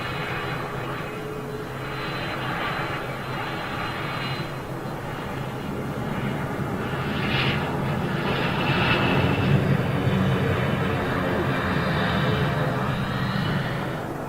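An Iberia retro-liveried ATR turboprop passes overhead, a steady, moderately loud droning roar that swells slightly toward the middle and holds without talk.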